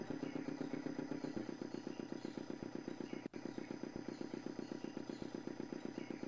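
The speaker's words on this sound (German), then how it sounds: "Hustend erwacht der Motor zum Leben." A small engine idles in Baphomets Fluch 2 (Broken Sword 2 Remastered), a steady rapid chugging with a regular rhythm throughout, close and moderately quiet, broken by a single sharp click midway.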